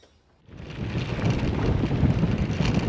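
Strong easterly headwind buffets a cyclist riding the Moralana Scenic Drive on the Mawson Trail. After a brief quiet moment, loud, continuous, low rumbling wind noise slams against the microphone and persists.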